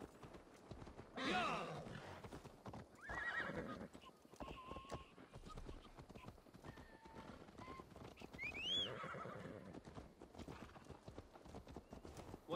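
Horse hooves clip-clop at a walk while a horse whinnies now and then, set against Assassin's Creed Valhalla game ambience with a voice speaking briefly.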